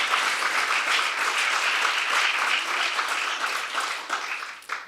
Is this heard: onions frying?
no